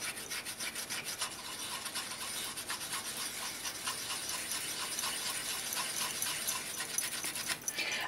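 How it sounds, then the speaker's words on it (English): Steady close rubbing of extra fine steel wool buffing heat-patinated brass, a continuous rasping scrub with quick back-and-forth strokes and no talk. "I've got my extra fine steel wool. And I'm going to start buffing it back."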